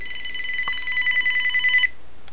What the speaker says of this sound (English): So I knew that phone was going to ring.